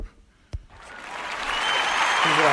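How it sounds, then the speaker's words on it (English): A canned applause sound effect played by podcast hosts, starting after a brief thump and swelling into steady crowd clapping and cheering that keeps rising to the end. "Which one's the applause one?"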